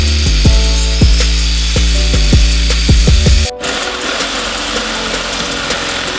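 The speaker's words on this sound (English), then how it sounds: "So I ended up having to cut the head off the bolt in order to get the shock off" A power tool cuts the head off a badly rusted shock absorber bolt while lowering springs and new brakes go on a car, a loud harsh whine with repeated load dips for about three seconds, then a sudden stop into quieter workshop noise.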